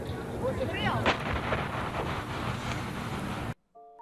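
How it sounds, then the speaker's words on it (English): A distant rumbling blast with rushing wind noise from the Intelsat 708 rocket crash, followed by scattered crackling and tinkling of glass shattering from the shockwave, then an abrupt cut to near silence. "all the glass in the surrounding area had shattered, something that can actually be heard moments after the crash."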